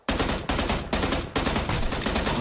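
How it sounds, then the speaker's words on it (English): In the video game PUBG, gunfire comes in rapid bursts of sharp shots, loud and close, with four distinct volleys back to back and no voices. "I'm getting shot at."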